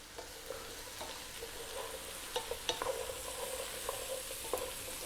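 Zucchini with thyme and cumin is stirred in a pot, soft scraping strokes and light clicks of a utensil over a quiet sizzle, close and gentle.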